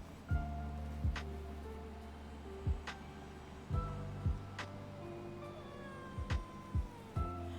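A hungry cat in an apartment meows repeatedly in the morning. Several short, fairly quiet meows come at irregular intervals over a soft background.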